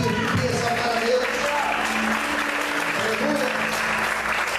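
A church congregation claps together during a sermon, a dense wash of applause running throughout, mixed with voices and faint musical tones underneath.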